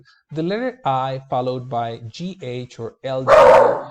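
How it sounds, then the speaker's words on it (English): A dog barks once, loud and close, at the end, cutting in over a woman's steady speech. "I'm sorry, that was my dog"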